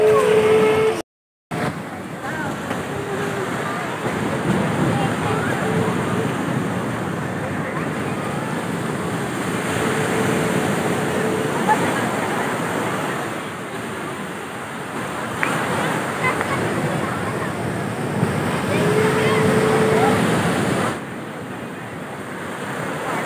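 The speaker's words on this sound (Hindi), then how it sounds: "समुद्र की आवाज़ सुन रहे हैं फ्रेंड्स, बहुत सूदिंग है" Sea waves washing onto a beach at Puri, a broad steady roar of surf with wind buffeting the microphone, loud and continuous, swelling gently with each breaker.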